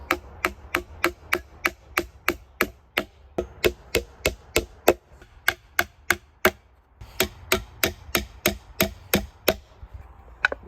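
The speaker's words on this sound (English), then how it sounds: "And then we take our nails and a basic framing hammer, preferably made by Stanley" A Stanley framing hammer drives nails into birdhouse wood in a steady run of sharp, loud strikes, around thirty evenly spaced blows with a brief pause in the middle.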